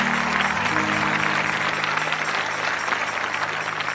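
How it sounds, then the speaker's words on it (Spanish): Church congregation applauding together after a sermon line, a steady broad wash of clapping, close and sustained, with a low hum underneath that fades early on. "Un aplauso fuerte al Dios que vive."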